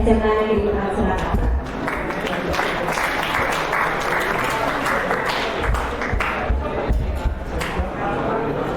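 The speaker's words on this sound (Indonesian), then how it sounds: "Beri tepuk tangan yang meriah teman-teman semuanya" Applause from an audience at a high school event in Surakarta, a dense, sustained clapping crowd with a few cheers and a voice over it.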